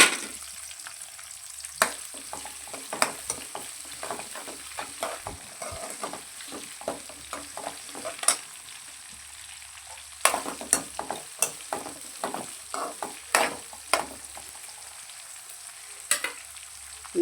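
Onion pieces fry in a pan and are stirred with a utensil, giving a soft continuous sizzle broken by repeated sharp scrapes and clacks in an irregular rhythm, close and with no voices.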